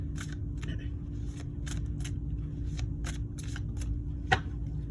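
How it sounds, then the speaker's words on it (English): Repeated crisp riffling bursts of cards being shuffled, close by, over a steady low hum, with one sharper snap near the end. "shuffled the cards."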